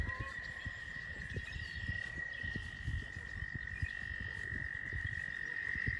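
Toads croaking in a rapid, pulsing chorus close by at a nature center in spring, layered over a steady high insect-like trill, outdoors at night.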